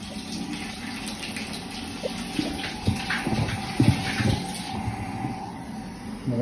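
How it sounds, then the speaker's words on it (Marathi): Water under tap pressure gushes into a half-empty tank, a continuous splashing rush with irregular gurgles and surges, close and fairly loud, with no talk. "आता हे बघा इथे पाणी येत आहे आतमध्ये"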